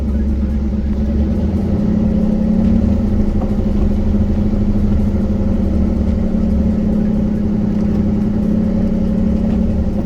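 Off-road vehicle Franky driving slowly in four-low, second gear, its engine giving a steady, loud low rumble with a sustained mid hum throughout, close by and without talk.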